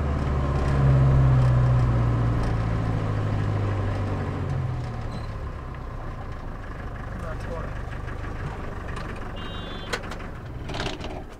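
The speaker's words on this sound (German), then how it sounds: "Oh, jetzt kommen hier die LKW alle." Trucks rumble and idle close by in a Himalayan mountain traffic jam, a loud low engine drone that eases off, with a reversing beep near the end and people talking over it.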